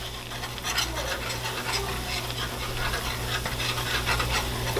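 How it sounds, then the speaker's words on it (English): A gumbo roux being whisked in a pan over low to medium heat, a continuous scraping stir with a gentle sizzle beneath it and a steady low hum, close up with no talk. "You gotta just whisk that in."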